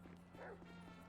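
A dog in Grand Theft Auto 5 gives a short bark as it is chased, one quick burst over steady game background noise with voices nearby.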